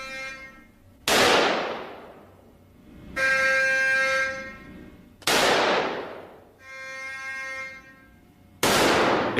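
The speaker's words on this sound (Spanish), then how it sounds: "El material recibe 3 disparos." Three loud, sharp cannon shots strike armored car material a few seconds apart, each bursting and then fading, with a sustained ringing tone humming in the gaps between them.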